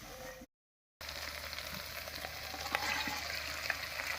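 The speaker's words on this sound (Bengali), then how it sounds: "এবারে কচুর সঙ্গে মশলাটা আর একটু কষিয়ে নেব" Fried taro is stir-fried with spice paste in a pan. A brief sizzle is cut by a short gap of silence, then a steady crackling fry returns with light scraping stirs.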